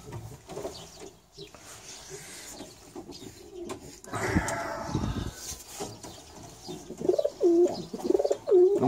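Male pigeons cooing as they court a female placed in a capture box in a loft, soft repeated throaty coos growing clearer toward the end over faint handling noise and background rustle.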